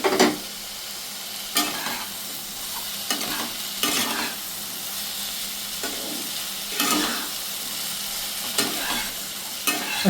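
Pieces of fried fish are stirred into a sizzling vegetable curry of ridge gourd and eggplant, a steady loud frying hiss broken by repeated scraping strokes of the spoon against the pan.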